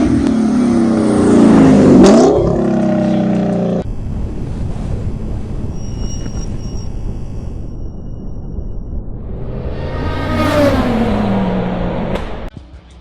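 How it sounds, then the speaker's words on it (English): Lexus LC500 fitted with an Armytrix exhaust, driven on hilly roads: a loud engine rev climbing to a peak, a steadier drone as it passes, then another rising rev building toward the close, with some wind noise. "give everyone a better chance to hear the exhaust"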